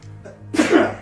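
One sharp sneeze up close, bursting out loud after a brief quiet intake of breath.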